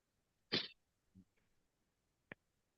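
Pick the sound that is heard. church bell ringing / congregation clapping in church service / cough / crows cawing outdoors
cough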